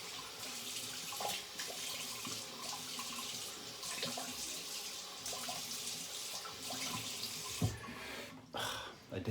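Cold water runs steadily from a tap into a sink while a shaving brush or razor is rinsed, a continuous close splashing flow with small shifts in texture and no voices.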